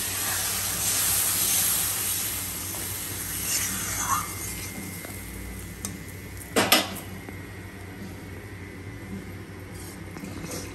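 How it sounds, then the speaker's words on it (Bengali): Water is poured into a pan of Bengali chital fish curry after the spices have been fried down, giving a steady broad hiss with a few metallic clinks of utensils against the pan. There is no talk. "পরিমাণ মতো আন্দাজ করে জল দিয়ে দেওয়া হচ্ছে।"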